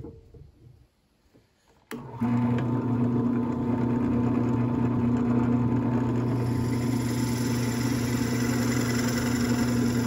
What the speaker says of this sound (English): I'm just drilling down into here.